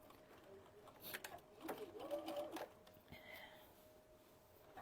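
A sewing machine stitches the fabric of a stuffed toy chicken. A soft, faint mechanical whir with light rapid ticking runs for a couple of seconds, set among quiet handling noises.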